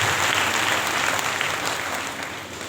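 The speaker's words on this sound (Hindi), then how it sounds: "तालियों की गड़गड़ाहट करें।" Loud, thunderous applause from an audience at a spiritual discourse gathering in Bastar, a dense, continuous wash of many hands clapping that eases off slightly toward the end.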